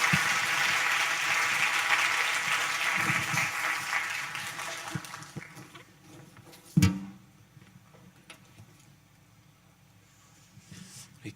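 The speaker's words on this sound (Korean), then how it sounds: "나오실 때 크게 박수로 환영하도록 하겠습니다" Applause from a church congregation welcoming a visiting missionary speaker, a dermatologist, fills the room steadily for about five seconds before thinning out, followed by quiet room noise and a sharp knock.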